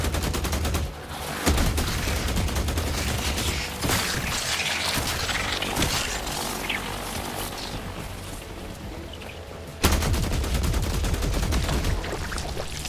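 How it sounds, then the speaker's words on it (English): Rapid gunfire and blasts boom through the game The Last Caretaker, a dense, loud barrage with sharp bursts near the start and again at about ten seconds, and no voices. "Now it's exploded."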